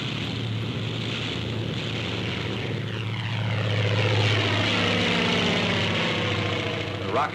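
A World War II Typhoon fighter plane diving during a 1944 newsreel, with a loud, steady propeller-engine roar that swells in the middle and holds close throughout.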